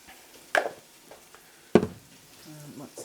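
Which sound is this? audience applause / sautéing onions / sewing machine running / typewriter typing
sautéing onions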